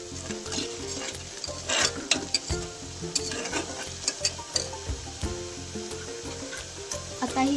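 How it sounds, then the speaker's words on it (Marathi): Masala for paneer tikka being stir-fried in a pan, a soft steady sizzle with rhythmic scraping and stirring strokes of a spoon, close and moderately quiet, no talking. "चांगलं परतून घ्यायचं."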